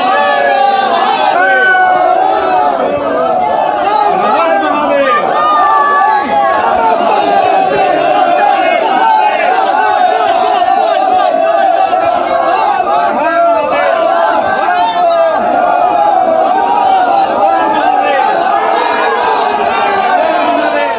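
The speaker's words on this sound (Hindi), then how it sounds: "वाराणसी में देखिए, वहां भक्तों की भारी भीड़ थी, बड़ा सैलाब था" A huge crowd of devotees at a temple in Varanasi, a loud, continuous roar of massed voices and shouting with no pauses, dense and close.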